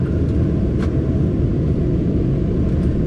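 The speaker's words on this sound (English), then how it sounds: "Excuse the noise with the aircon" Air conditioning runs inside an HGV truck cab while driving on a European trip, a constant low rumbling roar of fan and road noise that stays steady and loud throughout.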